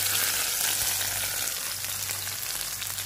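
A hot tempering of cumin, bay leaf and red chillies sizzles over kadhi pakora, producing a loud, steady, hissing fry that stays even throughout, with no one speaking.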